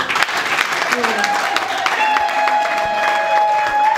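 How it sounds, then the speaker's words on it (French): An audience applauds at an NGO presentation and conference, dense steady clapping that continues throughout the four seconds, fairly loud and close, with a voice speaking faintly over it. "Applaudissez."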